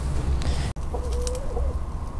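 Backyard chickens being offered a treat, soft clucks and a brief cooing call close by over low background noise, with a sharp click partway through.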